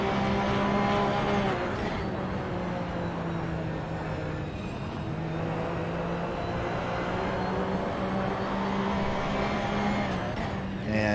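Porsche Cup race cars lapping at Brands Hatch give off a sustained engine drone that rises and falls through gear changes, loud and continuous, with several cars blending together at a distance.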